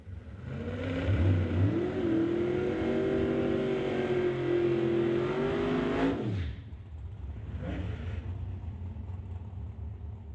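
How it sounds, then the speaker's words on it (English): Super Gas drag racing cars at Mission Raceway roar loudly as an engine revs up and builds into a sustained, rising drone, then cuts off sharply and leaves a lower rumble with a brief second swell, no voices over it. "Cars fire up."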